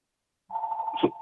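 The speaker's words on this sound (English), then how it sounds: "just my phone's ringing" Mobile phone ringing: a short steady electronic tone starts after a moment of silence and holds, with a brief louder blip near the end, close and fairly quiet.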